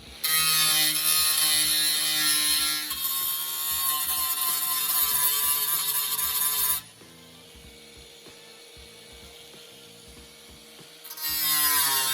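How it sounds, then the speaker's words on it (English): Angle grinder smoothing welds on a replacement sill panel of a rusty VC Valiant, a loud, steady high-pitched whine that runs for about seven seconds, drops to a quieter idle, then surges loud again near the end. "I'll get the grinder out now and give him a tidy up."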